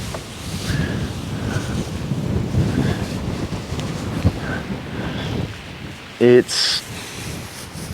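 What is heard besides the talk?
wind blowing over a damp hay field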